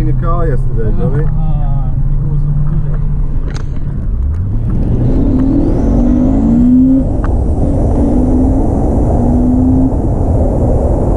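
A 2005 Honda Civic EP3 Type R with a TSS induction kit idles, then accelerates hard with a rising intake roar and engine whine climbing through the revs across several gears, heard from inside with voices talking over it.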